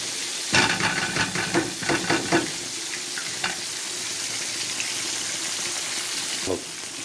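Onions fry in a pan with a steady sizzle. A burst of stirring clatter opens the sequence, then the frying settles into a constant hiss, with one more scrape near the end.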